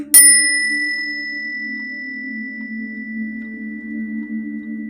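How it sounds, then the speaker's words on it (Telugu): A phone message notification sounds with a sharp bright ding that rings on as a sustained, slowly fading electronic tone in an otherwise quiet room. "ఏదో మెసేజ్ వచ్చినట్టుంది"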